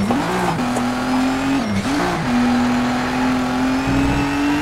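A race car in Need for Speed Shift 2 revs loud and close, its engine note dipping through a corner then climbing steadily as it accelerates hard out, with a brief tire squeal.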